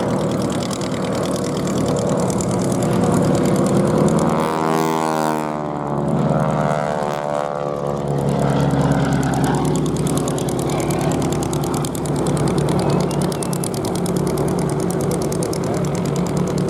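Propeller engines drone continuously as two aircraft fly past at an airshow display, the pitch sweeping down as a plane passes close overhead, then a steady loud hum continues.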